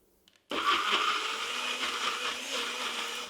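A blender starts abruptly and runs steadily, pureeing boiled vegetables in a close, loud whir that holds level until the end, with no talk.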